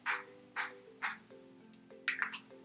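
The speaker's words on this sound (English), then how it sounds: "Just do a couple light sprays of it." Three quick, soft spritzes of makeup setting spray onto a face, evenly spaced, then a brief cluster of lighter puffs, close and quiet with no talking.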